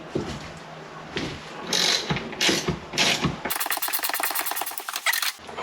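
A ratchet loosens a bolt on the rear strut of a Porsche 996/997, with a few separate clicking strokes followed by a rapid run of close ratcheting clicks, with no talk.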